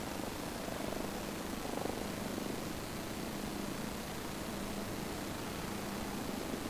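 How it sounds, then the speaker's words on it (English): A helicopter in a flight simulator game gives off a steady, hissing rotor and engine drone with a faint low throb, continuous and unchanging, with no voices. "Sounds like a helicopter"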